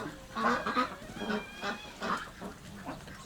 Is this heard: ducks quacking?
yes